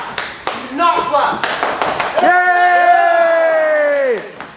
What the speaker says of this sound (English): Oh, no, you do not clap!